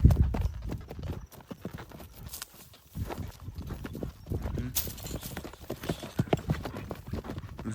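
Horse hooves clip-clopping as the animal is walked back and forth on hard ground, irregular close knocks with brief pauses, moderately loud, faint talk in the background.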